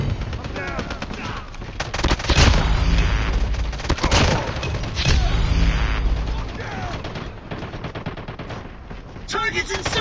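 Rapid FR .556 rifle gunfire in a video game, loud bursts of three-shot fire repeating over and over with explosions and game effects mixed in, under a constant dense wash of combat noise.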